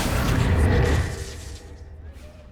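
A Bombarda blasting spell detonates in the video game Hogwarts Legacy, a loud, deep boom up close with a whooshing burst, then a rumbling tail that fades out over a couple of seconds.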